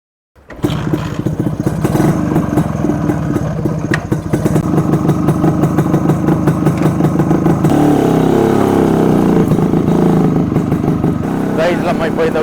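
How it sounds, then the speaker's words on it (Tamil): Completely restored 1995 Yezdi RoadKing motorcycle engine running steadily up close, a continuous loud two-stroke clatter with irregular revving swells and a slight shift in tone partway through. "இது வந்து ஒரு 1995 மேக், கம்ப்ளீட்லி ரெஸ்டோர்டு RoadKing."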